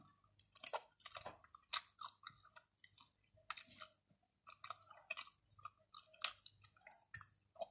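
Santol fruit dipped in sauce is chewed close up, a steady series of crisp, moist bites and crunches at a regular pace, with near-silence between chews.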